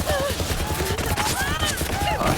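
Rapid gunfire from a weapon in Borderlands 3 Mayhem Mode, a dense crackling burst of shots lasting throughout, loud and close, with game sound effects layered over it.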